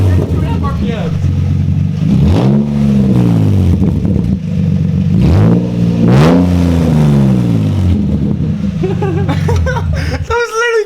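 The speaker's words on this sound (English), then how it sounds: "Without any exhaust system, that's how loud a car can be." An Infiniti G35 with no exhaust system fitted revs hard and loud up close, three rising and falling engine sweeps over a rough idle, with talking near the end.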